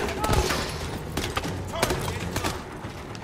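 Gunfire in the video game Call of Duty: Advanced Warfare, with rapid bursts of shots and thuds crowding a busy, loud battle mix while a voice talks over the top.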